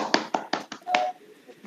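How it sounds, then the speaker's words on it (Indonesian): Brief burst of applause for the first student group during a peer-teaching class session, a few sharp separate claps up close, short and loose, with a faint voice trailing after. "Kasih aplaus dulu untuk kelompok"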